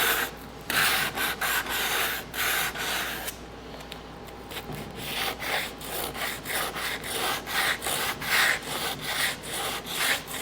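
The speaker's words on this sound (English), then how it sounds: "I think I need to scuff this a little bit first." Scuffing a custom console part for a Cummins-swapped square body K30 truck, steady rhythmic back-and-forth rubbing strokes of abrasive on the surface, close and fairly even with a short pause partway through.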